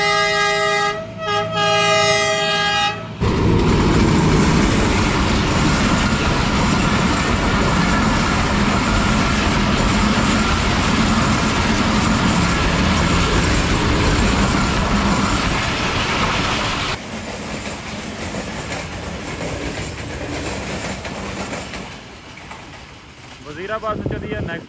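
Awam Express train, ZCU20 locomotive leading, passing Haripur Band station: a horn blast opens, then a loud, steady rumble and clatter of coaches rolls by for many seconds before easing off.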